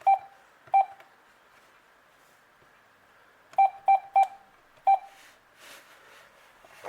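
A VTech cordless phone base beeps after being plugged into power, giving short, clear electronic tones: two near the start, then a quick cluster of three and one more, close and alone in a quiet room.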